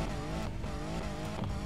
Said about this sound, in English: Look at that engine. Just the sound.